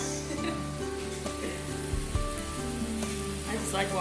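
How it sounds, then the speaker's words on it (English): Food frying in a pan, a steady close sizzle and crackle with occasional pops, continuous throughout. "No better sound than that sizzling."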